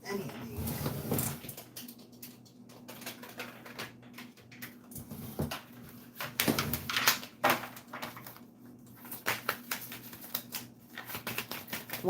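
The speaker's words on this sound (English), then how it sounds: "One more shuffle and I will pull from the top." Tarot cards shuffled by hand in a riffle-and-slide pattern, a steady papery flutter of soft clicks and swishes with a few louder bursts, close up under a constant background hum.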